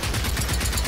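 Machine gun fire in Generation Zero, a short, loud burst of rapid repeated shots close up, with no talking.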